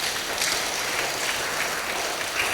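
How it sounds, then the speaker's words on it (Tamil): A group claps hands in dense, continuous applause, steady and fairly loud with no distinct individual claps standing out, during a Tamil Catholic religious talk. "கைத்தட்டுங்க பாப்பா."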